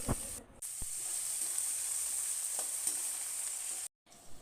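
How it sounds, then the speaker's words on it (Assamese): Capsicum and tomatoes frying in hot oil in a pan, a steady close sizzle running throughout with a brief stir clink near the start and a short dropout near the end. "এতিয়া কেপচিকাম আৰু বিলাহীখিনি অলপ সময় ভাজি ল'ম।"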